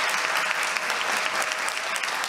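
Steady, dense applause from an audience at a public hearing of a civil protection committee, continuous and fairly close with no talk over it.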